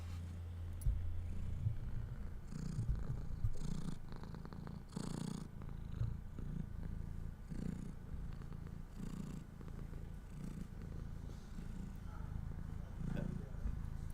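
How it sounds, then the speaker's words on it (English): A cat purrs softly and continuously close to the microphone, a low rhythmic rumble with faint rustling and handling noise over it. "Can you hear him purring?"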